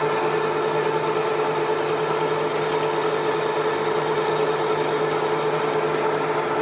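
A Bridgeport milling machine with a Sandvik insert cuts metal at 550 RPM, making a steady, continuous mechanical whir and hum with a fine rhythmic chatter, loud and constant with no talk.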